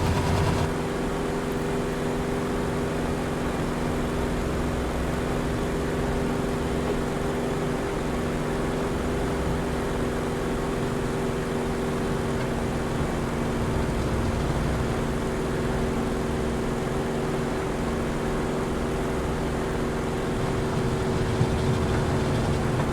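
Corsair aircraft engine in Microsoft Flight Simulator 2024, a steady low droning propeller-engine roar that holds at an even, moderate level throughout with no talk.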